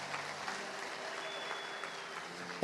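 A church congregation claps along in steady, continuous applause, sounding moderately distant and soft, with no voices standing out above the clapping.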